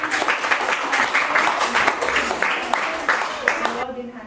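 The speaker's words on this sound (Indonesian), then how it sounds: "Beri aplaus untuk teman kalian." Classroom applause for classmates during a lesson, a dense, steady patter of many hands clapping for several seconds before cutting off abruptly near the end, with a voice briefly audible underneath.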